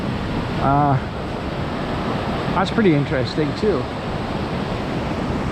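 Steady broadband rush of water at the Sydenham River Dam near Inglis Falls on the Bruce Trail, a constant roar filling the background while someone talks briefly over it and wind buffets the microphone.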